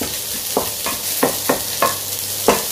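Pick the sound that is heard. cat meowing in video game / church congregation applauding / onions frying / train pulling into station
onions frying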